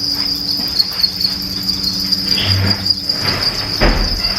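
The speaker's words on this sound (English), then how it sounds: "we rear two species of cricket" Crickets chirping in a cricket rearing laboratory, a dense, continuous high trilling from many insects close by, with a few soft knocks and rustles underneath and no voices.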